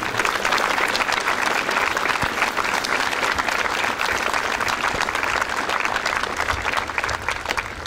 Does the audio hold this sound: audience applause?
yes